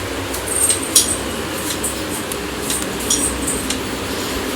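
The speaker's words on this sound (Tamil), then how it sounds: "ஒட்டாமல் வரணும்னா இந்த மாதிரி நம்ம கிளறிட்டே இருக்கணுங்க" A metal spatula stirring potato fry in a pan, light scraping and clinking of metal on the pan in irregular taps, fairly quiet, over a faint steady background hiss.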